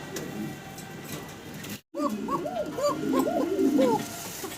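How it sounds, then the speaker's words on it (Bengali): A male Tiger pigeon cooing, with a series of close, rhythmic rolling coos repeating after a brief silence over a background of faint chatter and bird noise. "ককার ডাক শোনাচ্ছি আপনাদেরকে"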